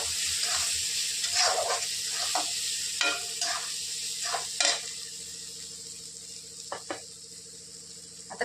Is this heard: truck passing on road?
no